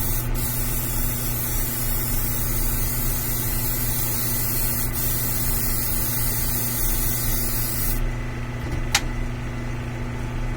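A spray can priming the bottom of a 1/4-scale Beast prototype hisses steadily and closely for nearly the whole stretch, over a low background hum, cutting off abruptly near the end.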